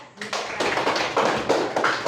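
Applause from a classroom of students, a burst of dense clapping that starts abruptly and keeps up steadily and fairly loud for about two seconds.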